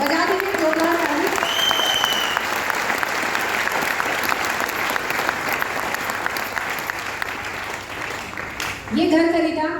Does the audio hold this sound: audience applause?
yes